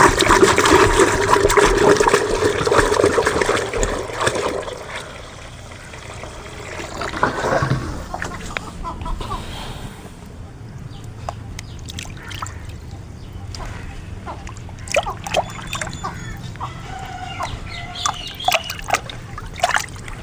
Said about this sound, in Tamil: இதில் 10 லிட்டர் சாதா தண்ணி ஊற்றி மிக்ஸ் பண்ணிக்கலாம்